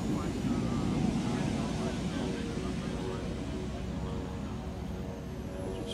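A radio-controlled model jet flying at the Joe Nall airshow, a steady turbine roar held at a distance across the whole stretch, fading slightly toward the end.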